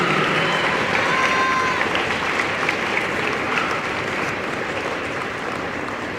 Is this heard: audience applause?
yes